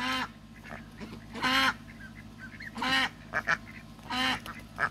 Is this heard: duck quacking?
yes